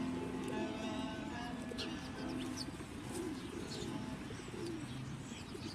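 Soft, repeated bird coos and light chirps come from a bird perched on curtains indoors, faint over a steady background hum.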